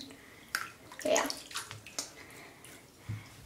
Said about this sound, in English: pour some water on it